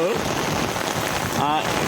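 Steady rain pours at a diamond-hunting site in Paderu during June, a dense, even hiss close by, with faint bits of a voice.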